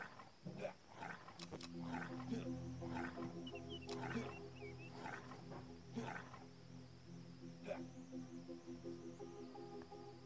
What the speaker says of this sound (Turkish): Abi ayı gibi oluyor.